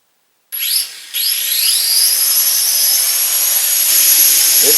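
A Dromida Vista RTF quadcopter drone spins up and lifts off on its maiden flight, a loud, close, high-pitched whine of small rotors that rises in pitch, dips briefly, then holds steady.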